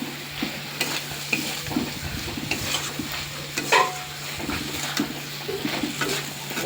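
Potato and pea curry is stir-fried in a pan, with repeated scraping and clacking strokes of a spatula over a soft, steady sizzle and a low background hum.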